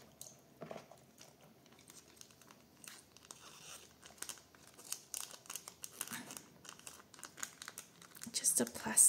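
Paper is rubbed and peeled off a magazine transfer in close, soft crinkling and scratchy rubbing bursts, growing busier toward the end, with talking heard at times.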